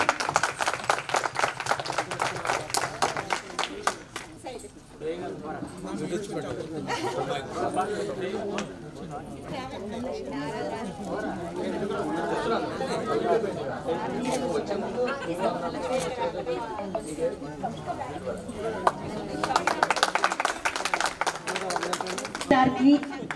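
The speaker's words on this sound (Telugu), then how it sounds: "క్లాప్స్ కొట్టండి ఒక్కసారి." An audience at a 1998-batch school reunion gathering breaks into a patter of clapping at the start and again near the end, with someone talking over a murmuring crowd in between.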